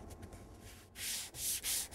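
Rhythmic strokes of hand sanding on wood with a flat sanding block, a soft rub at first, then several louder, raspy back-and-forth passes close up.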